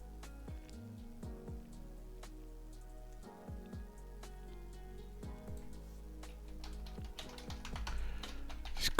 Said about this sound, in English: Just quickly typing to my Telegram group